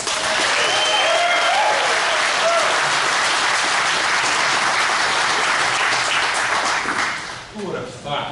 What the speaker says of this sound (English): please give a round of applause to Joe McCook.